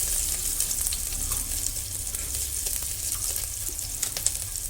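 Ginger and garlic pieces frying in hot oil for a chicken soup, a steady close sizzle with dense crackling and occasional sharper pops throughout.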